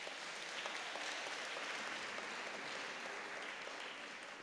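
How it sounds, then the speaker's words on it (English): Warm applause from a crowd at a Human Rights Day celebration, steady and sustained, slowly tapering toward the end with no voices over it. "Can we give her another warm round of applause"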